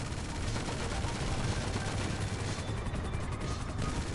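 Machine gun fire in GTA, a dense, continuous barrage of rapid shots that stays loud and unbroken throughout, with no talking over it.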